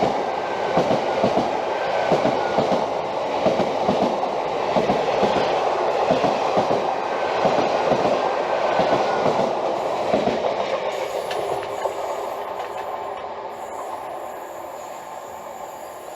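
A pair of GWR Class 802 trains runs through Hayle station, a loud steady rumble with rhythmic wheel clicks over the rail joints that slowly fades as the units pass, with no voices.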